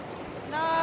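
River water flowing past a riverside campsite at Shnongpdeng, Dawki, heard as a steady broadband rush; a few thin whistling tones sit over it in the second half.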